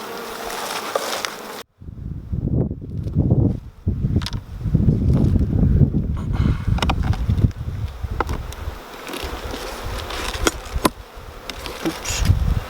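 Honeybees drone in a steady, dense buzz around an open hive during an inspection, with soft rustling and handling knocks nearby; the buzzing stays loud and continuous after a brief opening pause.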